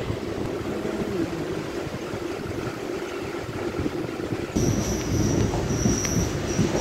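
An MMTS local commuter train in Hyderabad pulls away from a station platform. It gives a continuous rolling rumble with wheel noise, and a high squeal and a louder rush of sound start a few seconds in.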